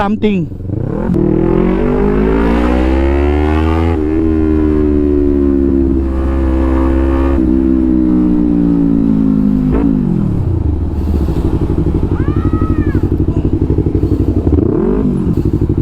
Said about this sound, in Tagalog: Biglang nagka-traffic dito, hindi naman nakaka-traffic dito sa umaga.